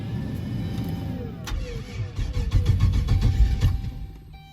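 A turbocharged LS-powered Caravan engine cranks over and catches, building into a loud, ragged rumble with rising bursts before it falters and dies down, heard close with no talking.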